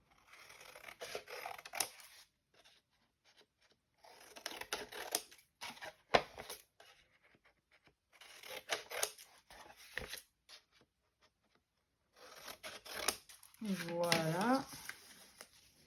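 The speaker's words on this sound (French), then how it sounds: "On coupe sur nos traits." Scissors cutting scrapbooking paper along drawn lines in bursts of close snipping and rustling, separated by pauses. A short crinkle near the end.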